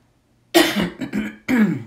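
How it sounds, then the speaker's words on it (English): A person coughs close up after a moment of silence, two harsh bursts, a short pause, then a third loud cough. "I'm going to cough again."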